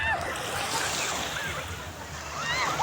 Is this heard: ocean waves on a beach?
yes